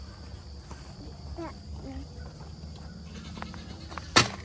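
Goats at feeding time bleating in short, faint calls over a steady bed of insect chirping outdoors, with a sharp close knock or clatter near the end.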